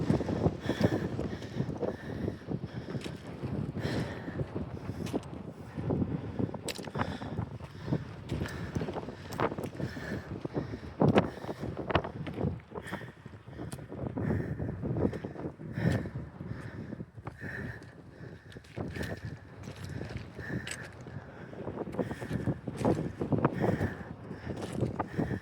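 Wind blows steadily across a loose-rock mountain slope in Colorado, buffeting the microphone with a continuous rough rush. Faint crunching footsteps come through underneath.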